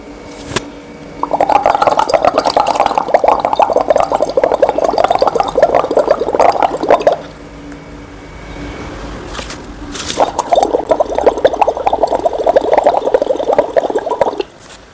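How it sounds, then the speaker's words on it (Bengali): Breath blown through a straw into a calcium hydroxide solution makes two long bursts of loud, rapid bubbling gurgles, each lasting about five or six seconds, with a quieter pause between them. "এইটা হচ্ছে ক্যালসিয়াম হাইড্রোক্সাইডের দ্রবণ, সেটার মধ্যে দিয়ে আমি কার্বন ডাইঅক্সাইড পাস করব।"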